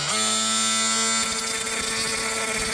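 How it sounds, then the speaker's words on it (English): An oscillating multi-tool buzzes loudly and continuously while cutting an LED light channel, holding a high whining drone that shifts pitch partway through as the blade bites. "So we use the multi-tool to cut this."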